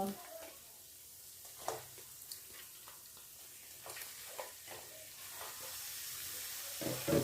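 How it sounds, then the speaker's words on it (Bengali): Chicken pieces dropped into oily frying spice masala give a faint, steady sizzle with soft stirring scrapes and a few louder crackles near the end, heard from close by. "এখন আমি মাংসটা এর ভিতরে দিয়ে দেব।"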